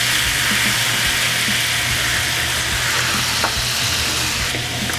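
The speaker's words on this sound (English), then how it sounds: "We're gonna deglaze it with some white wine." Golden brown butter sizzling in a pan as white wine goes in for deglazing: a steady, loud, hissing fry that holds evenly throughout, with faint scraping ticks in the background.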